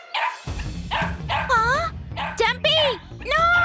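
A cartoon puppy yips, barks and whimpers in a series of short, pitch-bending cries, fairly loud and close, mixed in among voices from the animated show.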